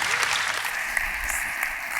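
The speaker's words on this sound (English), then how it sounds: "Big round of applause." Steady, dense applause from an audience fills the room at a business showcase for an entrepreneurship competition, sustained and even throughout, with a faint voice underneath.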